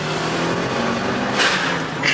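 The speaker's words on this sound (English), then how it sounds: "Gotta love a good old blow valve." A modified car at a Singapore night meet vents its blow-off valve with two quick hissing bursts over a steady idling engine rumble.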